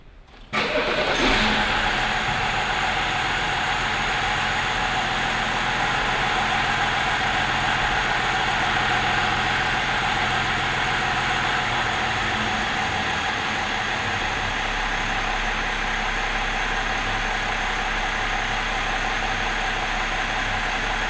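A car engine cranks and catches, then settles into a steady, even idle that drones on unchanged for a long stretch, close and fairly loud.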